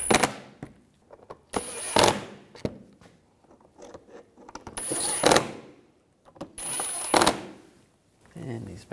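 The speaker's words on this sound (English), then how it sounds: "we can tighten these down." A ratchet tightens bolts on the AC condenser of a 2011-2018 Volkswagen Jetta, giving short bursts of rapid clicking with quiet gaps and small knocks between them, close by.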